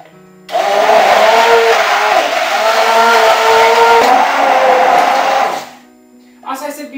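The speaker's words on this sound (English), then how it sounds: "Next step, just blend it." Blender whirring through a breakfast smoothie, a loud steady motor drone that starts abruptly, runs about five seconds with slight pitch wobble, then winds down to quiet before a brief spoken bit.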